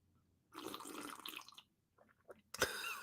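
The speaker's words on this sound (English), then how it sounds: "it is customary for me to begin all my live streams with a noisy slurp of tea" Noisy slurp of tea taken at the start of a live stream, a short wet sucking burst followed by a few faint sips and a sharp final slurp, close and alone.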